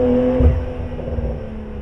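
A 2022 Porsche 911 GTS Cabriolet engine runs as a steady, moderately loud low drone from inside the car, with a brief swell near the start; no distinct crackles or pops stand out.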